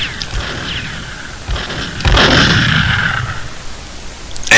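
Gunfire from a favorite handsome-looking gun in the N64 shooter Perfect Dark, several sharp booming shots with whooshing tails, the loudest near the two-second mark, ringing over a noisy game background.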